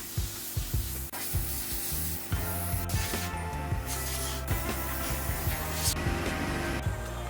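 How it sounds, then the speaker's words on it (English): A car interior panel is scuffed by hand for paint adhesion, giving soft, repeated rubbing and scraping strokes in an irregular rhythm, close and fairly quiet, with no speech. "That tells me I still need to scuff that a little bit more because there's not enough mechanical adhesion there."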